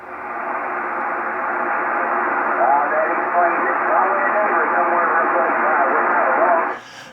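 Ham radio receiver hissing with broadband static during a geomagnetic storm, faint garbled voice chatter buried in the noise, steady for several seconds before cutting off abruptly.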